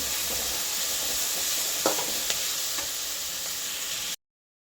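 Mixed vegetables fry in a hot pan for an oats dish, a loud continuous sizzle broken by a couple of stirring scrapes before it cuts off.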